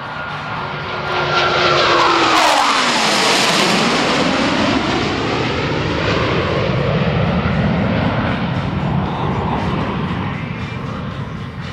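A US Navy Blue Angels jet makes a flat pass at about 350 miles per hour during an air show, its loud roaring engine sweeping by with a falling Doppler whine and a long, heavy rumble as it recedes.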